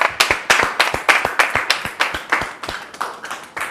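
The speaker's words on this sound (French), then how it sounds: "Merci beaucoup de recevoir notre sœur sous vos applaudissements." Studio audience clapping, loud rhythmic claps in a regular beat that nearly blends into applause, steady and close for a few seconds with no talking over it.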